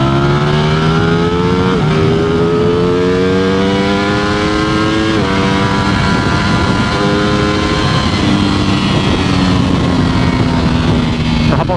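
Ducati Streetfighter V4S motorcycle being ridden, loud continuous engine drone climbing steadily in pitch with sharp drops at each upshift, close and dominant throughout with wind noise.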